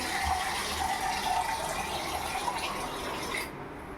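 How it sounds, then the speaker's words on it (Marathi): Water pours steadily into a cooking pot of khichdi with a hollow, filling gush for a few seconds, then eases and tapers off near the end. "त्याच्यानंतर आपण त्याच्यात थोडं पाणी घालू"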